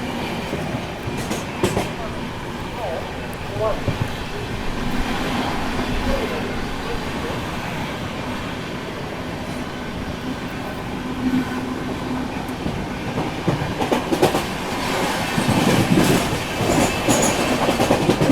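The Mumbai Rajdhani Express rolls along the rails after leaving Surat, a loud steady rumble with rhythmic clickety-clack of wheels and occasional metallic squeals throughout.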